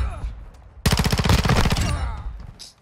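AK rifle firing full auto in the video game Call of Duty: Modern Warfare II, a loud rapid burst of evenly spaced shots lasting about a second, close and dominant, then fading.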